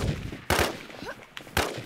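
Gunfire from the video game Infestation: three sharp, close shots spaced unevenly over about two seconds, each a loud crack with a short decay, with faint game sounds in between.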